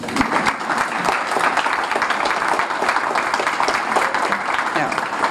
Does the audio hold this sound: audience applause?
yes